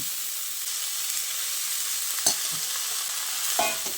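Blanched drumstick flowers added to soft potatoes and melted tomatoes in a frying pan, a steady hiss of frying with two sharp scrapes or knocks of a spoon against the pan.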